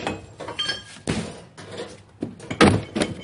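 Forcible entry on a door lock by firefighters, a tool driven against the lock with a series of loud, close metallic thunks and impacts, several sharp hits spaced irregularly.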